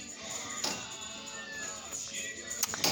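A cat at a humane society shelter meows behind iron cage bars, with a short cry standing out over a noisy room and faint background activity.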